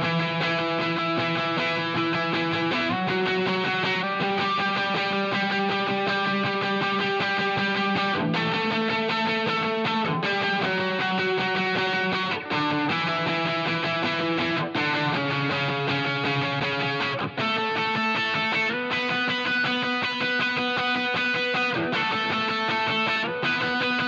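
Electric guitar through an LPD Pedals Lucent Overdrive, switched to its heavier setting, plays a steady sequence of chords with a gritty, crunchy tone, strummed continuously and fairly loud without pauses.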